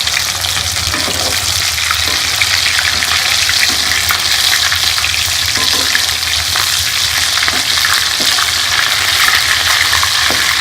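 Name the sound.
rice and potato cutlets frying in a pan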